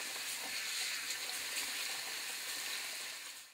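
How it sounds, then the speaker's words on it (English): Cooked noodles rinsed under running tap water: a steady, close hiss of flowing water that stays even throughout and fades slightly at the end. "Continue to rinse."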